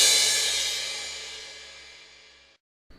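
A beatboxed cymbal imitation: a voice produces a bright, hissy crash that starts loud and fades steadily over about two and a half seconds, then cuts off into silence, with no talking.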